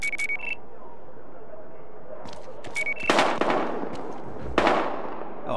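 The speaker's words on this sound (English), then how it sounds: "We've got gunshots." Gunfire in the Battlefield Hardline video game: two sharp, loud broadband bursts about a second and a half apart, with faint electronic tones and quiet background noise around them.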